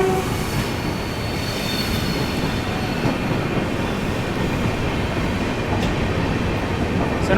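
Train running on the line near Pakala Junction on the Tirupati route, a loud steady rumble of wheels and rolling wagons with faint rail squeal throughout.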